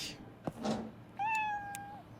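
A cat meows once in Internet Cafe Simulator 2, a clear, drawn-out meow that follows a couple of brief soft noises and stands out over quiet background sound.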